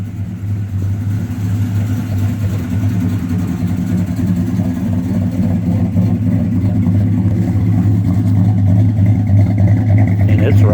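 A car engine runs steadily after a single key bump, a loud continuous low rumble with an even idle throb holding for the whole stretch.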